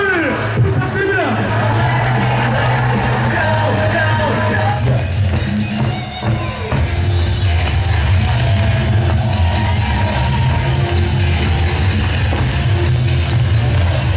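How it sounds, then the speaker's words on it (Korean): A baseball stadium crowd at a Hanwha Eagles versus Samsung Lions game cheers, yells and whoops in a dense, sustained roar, with a stadium announcer's voice carrying over the noise. "승리를 원한다면 힘찬 박수와 함성을"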